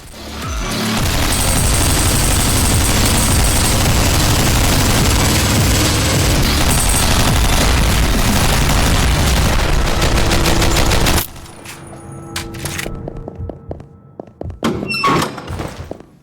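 Rapid gunfire fills the top-down shooter game OTXO: dense, loud, continuous automatic shots and impacts for about eleven seconds, then scattered single shots, thuds and brief bursts as the firing dies down.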